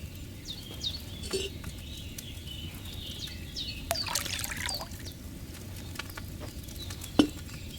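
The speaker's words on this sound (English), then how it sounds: "First, you have to pour the right base into the cauldron." Wine poured into a cauldron in the video game Kingdom Come 2: a faint, low pouring trickle with light patter and a few small clinks over several seconds.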